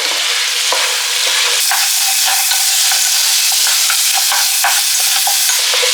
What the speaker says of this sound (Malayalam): നമ്മുടെ ഫ്രൈ ചെയ്ത ചിക്കൻ ഇതിനകത്തേക്ക് ആഡ് ചെയ്ത് കൊടുക്കാം കേട്ടോ